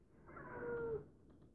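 A pet cat gives a single drawn-out meow, rising and then cutting off after about a second, close but soft in an otherwise quiet room.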